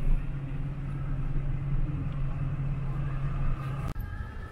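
A car towing a cargo trailer pulls into the Rock Solid Cargo Trailers lot with a steady, close, low engine rumble that stays even throughout, broken by a brief thump near the end, with no talking.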